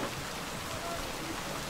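Steady rain falling in the video game Cyberpunk 2077, a dense even hiss that runs unbroken through the whole moment with no other sounds standing out.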